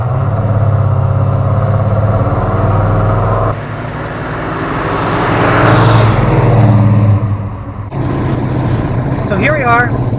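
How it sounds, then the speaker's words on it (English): A 1968 Dodge Coronet's deep, rumbling 440 V8 engine drones steadily while driving, with loud low throb, a shift in pitch midway, and a voice briefly heard near the end. "that combination gives this car a classic muscle car sound"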